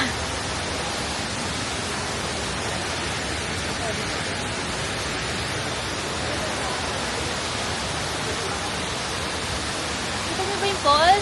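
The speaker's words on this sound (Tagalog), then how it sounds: "Ito mo ba yung falls? Ayun ang falls." Hulugan Falls rushes in a constant, dense roar of falling water, loud and unbroken like heavy white noise. Brief handling sounds come near the end.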